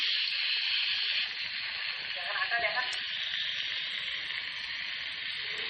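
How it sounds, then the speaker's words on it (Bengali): Pumpkin and fish sizzle steadily in an iron wok over a clay stove, a constant close frying hiss with faint stirring. "দেখুন উনানে রান্না হচ্ছে, লোহার কড়াইয়ে।"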